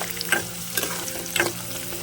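Green chillies, peanuts and chana dal fry in hot oil as a tempering for lemon rice, a continuous close sizzle with three scraping stirs of a spoon spaced about half a second apart and no voices.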